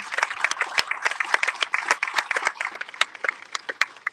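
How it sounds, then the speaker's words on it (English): A crowd applauding steadily for the Senate President at the 2023 Saint Croix Agriculture and Food Fair, dense clapping that stays at an even level throughout, with no voices standing out. "Let's give up Senate President another round of applause."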